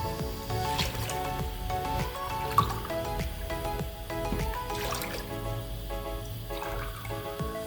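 Water pours and trickles steadily into a pot of sugar for dessert syrup, with faint drips and sloshing over a continuous musical backdrop.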